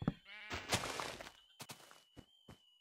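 Blocky Minecraft sheep bleat in a short wavering cry, followed by a few sharp game thumps and clicks with a thin steady tone, close and clear with no talking.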